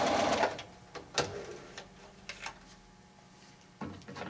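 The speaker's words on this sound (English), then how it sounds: "back stitch when you start, and sew all the way to the end and back stitch at the end as well." A sewing machine stitches a seam with back stitching at the start and end, a rapid mechanical whirr broken by several short bursts and clicks, close and clear with no voices.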